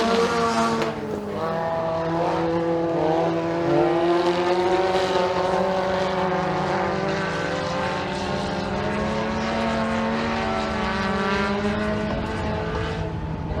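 Race cars roar around a dirt oval at a county raceway heat race, steady loud engine drone with rising and falling pitch as the pack sweeps through the turns, continuous throughout.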